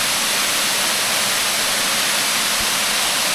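Water flowing at a historic spring on Paris Mountain, a steady broadband rush that holds constant and fairly loud for the whole stretch, with no voices.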